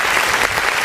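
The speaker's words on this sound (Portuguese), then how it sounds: "Vamos aplaudir o Senhor mais uma vez" A church congregation at a Portuguese-language online worship service applauding, a brief burst of dense, loud clapping.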